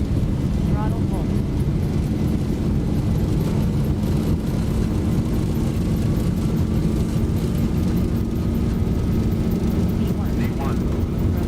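Boeing 737 jet engines at full takeoff thrust in the X-Plane 12 flight simulator with the Zibo mod, a loud unbroken roar with a faint rising whine layered over the rumble.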